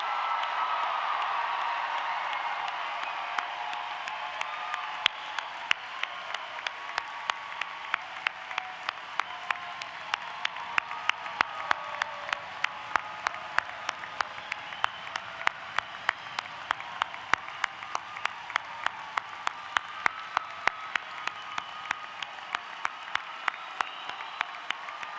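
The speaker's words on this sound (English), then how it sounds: "Ladies and gentlemen, let's give one more round of applause for the December" Long, sustained round of applause from a large commencement crowd for December graduates, even dense clapping with distinct sharper claps standing out, lasting the whole stretch with no talk.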